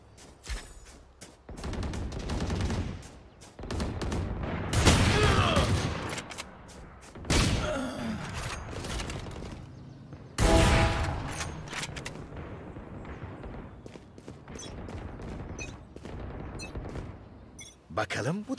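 Gunfire in an online shooter video game, bursts of shots crackling in several loud clusters with quieter stretches between, while someone talks over the action.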